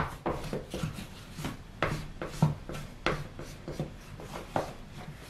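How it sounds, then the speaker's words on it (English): A grout float is rubbed firmly over a tile backsplash, pressing grout into the seams with repeated scraping strokes in an uneven rhythm, close and fairly quiet, with no speech. "the float hard into the seams so you really get that grout all the way to the base of the seams or in between the cracks"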